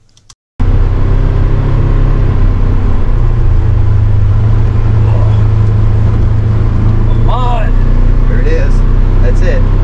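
Stock 2022 Polaris Ranger Northstar UTV with no sound deadening, a steady loud engine and drivetrain drone heard from inside the cab after a brief quiet start, continuous throughout with a faint voice briefly audible.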